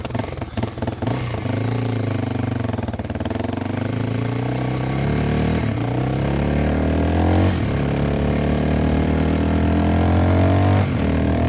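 A Yamaha WR400F supermoto with a sporty carburettor setup runs close and loud after a kick start, settling into a steady throbbing idle with a few slight rises in engine pitch.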